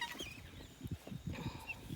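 Chickens, geese and guinea fowl cluck and call close by on a farm, with repeated short bursts of clucking and squawks.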